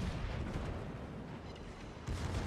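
Heavy battleship main turret guns firing in World of Warships from the Massachusetts, a dense, loud rumbling blast that fills the moment, dips briefly, then surges again in a second booming burst.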